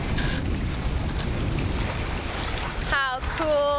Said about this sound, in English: This is what sailing is about right here.